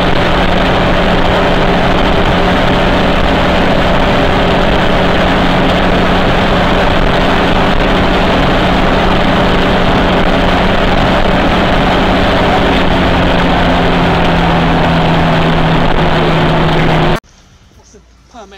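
A Zastava 101 car with a classic 1100 cc DMB engine, 55 horsepower and a single-barrel carburettor runs with a loud, steady, close-up drone that cuts off abruptly near the end.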